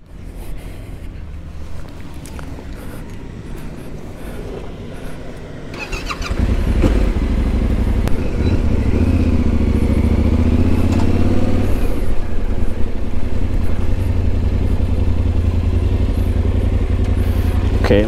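A Yamaha Tenere 700 motorcycle engine runs close by with a steady low rumble that grows noticeably louder about a third of the way in, then holds an even drone to the end.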